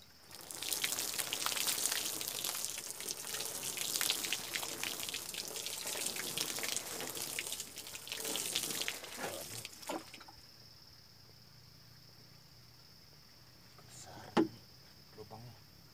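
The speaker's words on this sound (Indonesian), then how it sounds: "potray yang udah kita isi media tanah ini kita siram seadanya aja" A watering can pours water over a soil-filled seedling tray for chilli seeds, a steady splashing rush that stops abruptly, leaving quiet background hum and a single knock.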